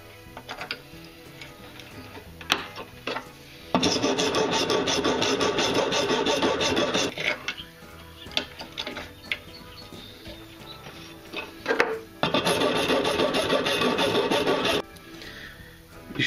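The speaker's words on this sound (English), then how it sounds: "With this technique, I like to file down the sides of the square" A rasp files down the sides of a handmade square rainbow catch, giving two long scraping passes of a few seconds each, close and moderately loud, separated by quieter light tapping.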